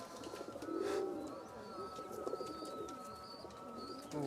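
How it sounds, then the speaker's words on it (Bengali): A pure Ferozpuri pigeon coos nearby, a soft low call swelling once early, then quieter murmurs over faint background noise. "পিওর ফিরোজপুরি কবুতর"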